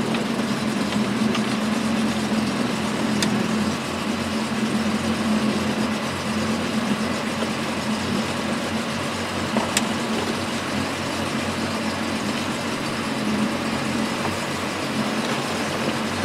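A 2004 Sea-Doo 200 Speedster jet boat idles on its starboard engine, a steady, continuous close motor drone with a low hum and no voices throughout.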